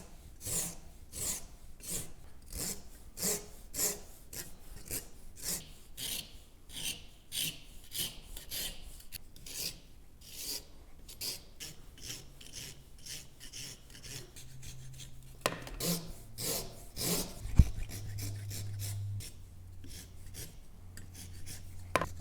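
A rasp files wood to shape a semicircle for a wooden book stand, giving steady, rhythmic strokes up close with no talking, then a brief bump and a lower hum near the end.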